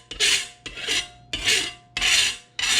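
A burnisher pushes the metal edge over on a steel card scraper in five close, rhythmic, rasping strokes, each a bright scraping rub followed by a brief pause.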